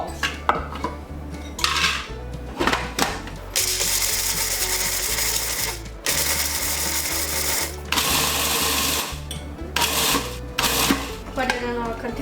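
A food processor pulses almonds in loud, close bursts of grinding and rattling, several separate pulses of a few seconds each with short pauses between them, the whirring motor and clattering nuts dominating throughout.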